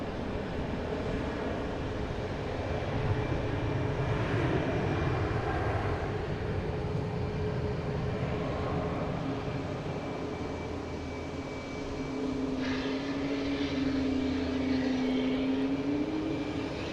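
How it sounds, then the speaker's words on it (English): A Delta Airbus A330-300 jet bound for Barcelona rumbles with a continuous engine drone and a faint tonal whine, swelling slightly near the end, with no voices. "We got the Delta flight number 250 heading to Barcelona,"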